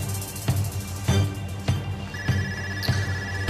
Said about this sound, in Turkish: Telefon çalıyor, hadi sene.